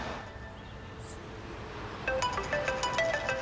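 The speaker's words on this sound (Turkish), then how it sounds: "Telefon." A phone rings in a quiet room in a Turkish TV drama, its electronic ringtone starting about two-thirds of the way in as a string of bright repeating tones, fairly clear and unaccompanied by talk.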